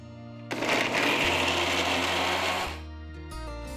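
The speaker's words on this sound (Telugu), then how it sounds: "నానబెట్టిన ఎండుమిరపకాయలని ఒక మిక్సర్ జార్లో వేస్తున్నాను." A mixer grinder whirs loudly for about two seconds as it grinds soaked dried red chillies without water, then winds down to a low motor hum.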